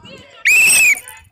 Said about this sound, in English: Resume and remount on my whistle.